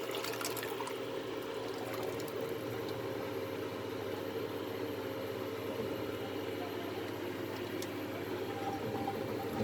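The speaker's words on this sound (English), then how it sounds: "I'm going to add the boiled chola, that is the boiled chickpeas, along with that water." Boiled chickpeas poured into a pan of fried masala along with their cooking water, a steady continuous liquid wash with light clatter, moderately close and fairly even throughout, with no talking.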